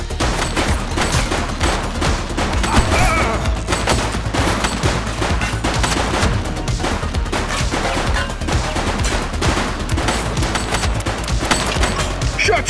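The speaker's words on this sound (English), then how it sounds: "Shots fired!" Dense, continuous gunfire from a police video game, The Precinct, with overlapping bursts of rapid shots and booming reports packed tightly across the whole stretch, loud and relentless with no pauses.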